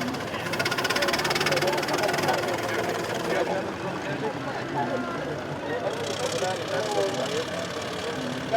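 Big steam engines running at a steam gathering in Hunton, a steady rumbling chug with mechanical clatter throughout, while people talk and call out over it.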